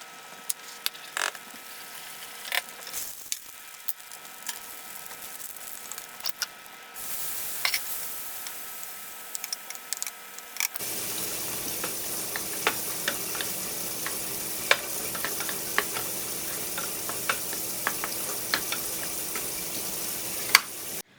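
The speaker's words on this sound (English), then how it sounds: "we are just going to go ahead and cook the shrimp" Shrimp sizzling and frying in a hot pan, a quiet crackle at first that jumps to a loud, steady hiss midway, with occasional sharp pops and clicks of stirring throughout.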